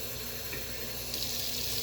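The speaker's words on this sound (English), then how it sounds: "you just want to get some water, some warm water." A kitchen tap runs a steady stream of warm water into a sink, a continuous close hiss with a slight brightening partway through and no voices.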